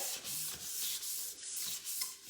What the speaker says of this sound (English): 1000 grit sandpaper, fold it